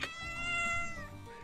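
A cat meows loudly and close by in one drawn-out, wavering call lasting over a second, with no voices alongside.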